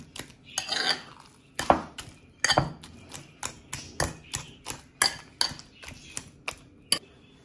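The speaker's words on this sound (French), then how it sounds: "On va l'écraser bien avec la fourchette" A fork mashes cooked aubergine in a bowl, giving a steady series of sharp clinks and scrapes against the dish, close and fairly loud, about a dozen strokes in an even rhythm with no talking.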